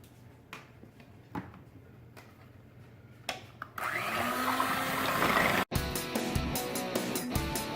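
A kitchen blender whirs on after a few scattered knocks and clicks, running loud and steady for a couple of seconds, cutting out briefly, then continuing with rattling, close and without talk.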